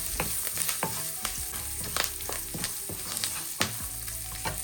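Coconut pieces fry in a pan with turmeric and salt, a constant bright sizzle broken by repeated scraping stirs of a spoon against the pan.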